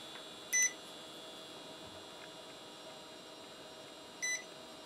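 A multimeter in continuity mode giving two short electronic beeps while its probes touch pins on the t-con board of an LG 42LH3000 television, a few seconds apart over a quiet background hum.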